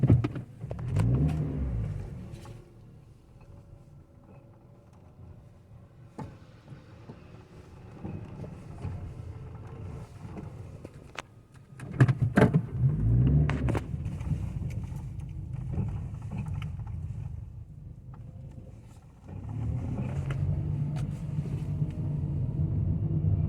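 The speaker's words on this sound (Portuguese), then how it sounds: "Parece que tem uma coisa batendo ferro com ferro solto" Loose metal-on-metal knocking from the suspension of a Toyota Etios, heard as a low rumbling car noise with irregular clunks and a few sharper knocks, fairly close and without talk.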